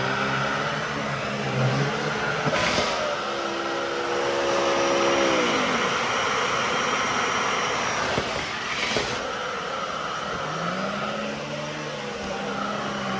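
A Miele Triflex HX1 Pro bagless cordless vacuum runs steadily with a whirring motor and spinning brush roll on carpet, its pitch sliding down and back up as the head moves, with a couple of brief bumps.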